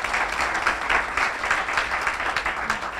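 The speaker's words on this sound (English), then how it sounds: "big round of applause for Matt for putting this on tonight" An audience at a hall of fame ceremony claps in a sustained round of applause, a dense, even patter of many hands in a room with no break throughout.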